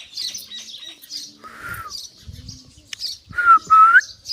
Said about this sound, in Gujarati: એક કાળા કલરની કબૂતરી છે તે આવે